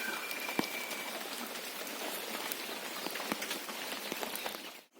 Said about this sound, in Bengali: বৃষ্টি এখনো পড়তেই আছে দেখুন